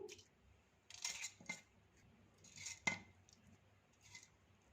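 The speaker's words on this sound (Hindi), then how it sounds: "चावलों को ग्राइंडिंग जार में डाल देते हैं।" Soaked rice is tipped into a grinding jar, giving several faint, scattered clinks and rattles against the jar with quiet pauses between them.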